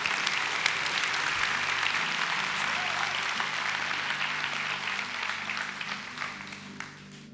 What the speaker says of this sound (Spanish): ¿por qué no le dan un aplauso fuerte a Dios por ella?